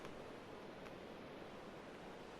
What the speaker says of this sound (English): there's that flowing water sound